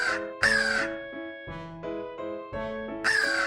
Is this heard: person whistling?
no